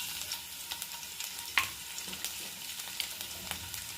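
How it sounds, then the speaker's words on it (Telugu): Garlic frying in hot oil in a pan, a soft continuous sizzle broken by small crackles and occasional stirring clicks, close and fairly quiet with no talking. "ఆయిల్ మంచిగా హీట్ అయింది. ఇప్పుడు ఇందులో వెల్లుల్లిపాయలు వేసుకుందాం"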